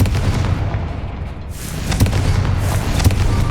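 A fiery Confringo spell blast erupts in Hogwarts Legacy, a dense rumbling boom that swells over steady low game ambience and stays loud for several seconds.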